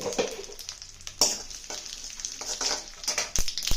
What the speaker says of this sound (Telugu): ఇప్పుడు ఆయిల్ కాగింది తాలింపు గింజలు ఎండుమిరపకాయలు